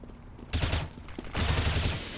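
Gunfire in Counter-Strike, two loud close bursts of rapid shots separated by a short pause, each burst crackling sharply over quieter game background with no talk.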